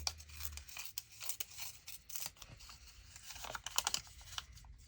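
Paper edges are torn by hand for a handmade tab-bound journal, a series of faint, close ripping and crinkling sounds in short bursts over a quiet room.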